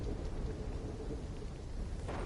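Rain and rolling thunder in a Black Ops 3 storm scene, a dense continuous downpour with deep low rumble held at an even level, no voices over it.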